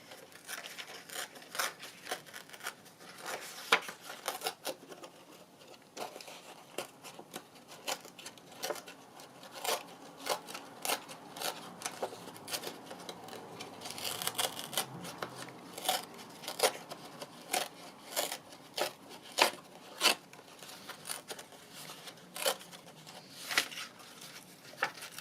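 Paper torn by hand around an edge for a journal cover, a series of short dry rips and crinkles arriving in irregular bursts with brief pauses, close and fairly quiet.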